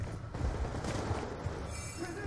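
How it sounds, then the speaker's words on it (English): Dense, continuous gunfire from a Black Ops 2 multiplayer match, steady rattling bursts filling the whole moment with no clear gaps. "Oh god, he's shooting at me."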